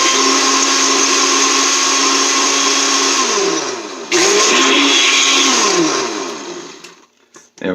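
Electric mixer whirring steadily as it blends sweet potato pie filling, a loud continuous motor drone that dips and bogs partway through, restarts, then winds down and stops near the end.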